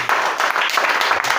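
A church congregation at a worship service claps and applauds together, producing a dense, steady wash of clapping that is close and loud throughout.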